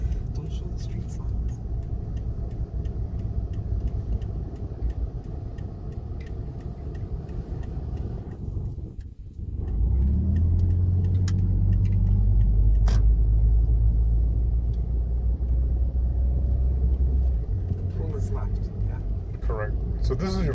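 A car is driven by an amputee working the pedals with the left foot, giving a steady close interior engine rumble and road noise that dips briefly and then swells into a heavier low drone.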